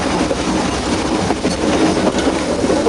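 The Nilgiri rack and pinion steam train near Ooty runs past with a loud, continuous rumble and rattle of wheels and carriages, close and steady throughout.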